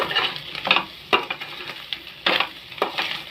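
Bitter gourd (ampalaya) with pork and egg sautés in a pan, with repeated scraping stirs and clinks of a utensil over a soft sizzle, loud and close.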